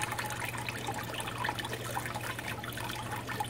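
Steady water flowing through a gold panning sluice tray outdoors, a continuous close trickling wash with a constant low hum beneath and no talking.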